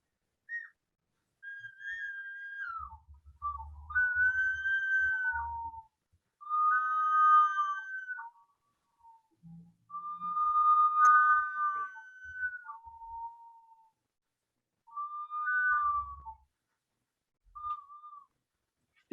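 A ceramic whistling vessel, a clay jar instrument, gives clear warbling whistles that imitate birdsong. They come in several separate phrases with short pauses between them, close to the microphone, with no speech.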